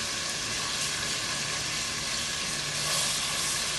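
Chopped onion sizzling in a generous pool of olive oil in a pan for a Basque tortilla, a steady, dense frying hiss that carries evenly from start to finish with no talk over it.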